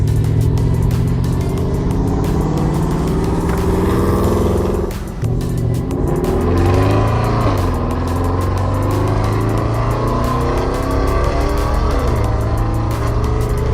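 A loud Stage 3 tuned Porsche Panamera engine of over 550 bhp revs and roars up and down in pitch close by, with sharp popping crackles from the exhaust throughout.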